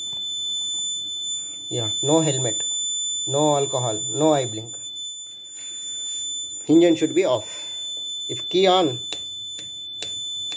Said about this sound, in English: Helmet removed. Engine off. Alarm continuously on.